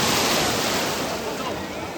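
Sea waves break at Rameshwaram beach in a loud, constant hiss of surf that eases off very slightly toward the end, with no clear voices over it.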